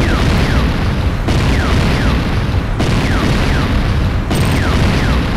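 Structures blow up in the Command & Conquer Renegade video game with loud, continuous rumbling booms that roll into one another. Thick, close explosion noise fills the whole stretch without a break.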